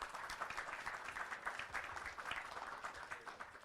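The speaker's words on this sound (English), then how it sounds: "Big applause, please." Audience applause closing a climate negotiations panel, sustained clapping from a sizable crowd heard faintly at a distance, an even wash of hand claps with no voices on top.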